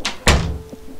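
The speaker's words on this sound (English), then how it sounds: "because it's a fire door, it's incredibly heavy" A heavy fire door with seals in its frame swings shut with a solid, deep thunk, preceded by a brief scrape and followed by a short fading rattle, close and fairly loud.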